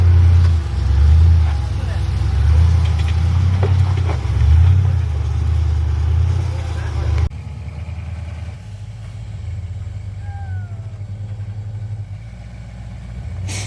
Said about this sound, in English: Mason's been driving a long time and he does a great job driving his dad's rock crawler